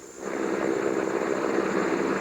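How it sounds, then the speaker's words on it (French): A helicopter from an air base circles over a search area, a steady broad engine and rotor roar holding at an even, fairly loud level throughout with no voices. "L'hélicoptère a survolé les lieux tout l'avant-midi, mais sans succès."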